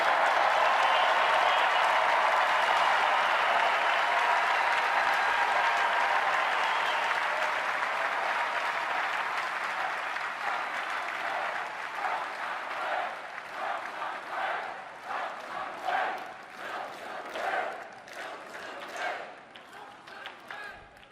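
A packed crowd at the 2016 Republican National Convention applauds and cheers during a speech. A loud roar of clapping and cheering gradually thins into rhythmic bursts of clapping and chanting.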